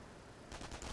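Rapid bursts of gunfire aimed at a sniper in the World War II strategy game Company of Heroes, kicking in halfway through as several quick, moderately loud volleys that follow a quieter stretch.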